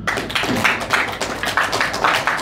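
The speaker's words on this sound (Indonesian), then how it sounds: "Tepuk tangan untuk kalian semua" Applause at an inauguration ceremony for new organisation officers, a dense burst of hand claps swelling and easing in waves, fairly loud and close, with no talk over it.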